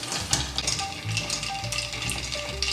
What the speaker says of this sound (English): And then we'll stir.